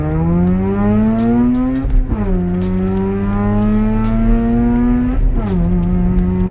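Rotary engine of a Mazda RX8, a 1.3-litre twin-rotor unit, revving up and down close by, with steady rising pitch sweeps that drop sharply twice before climbing again.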